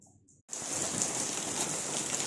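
Monsoon rain comes down in a dense, even wash of hiss that starts abruptly after a brief quieter moment and carries on close and unbroken.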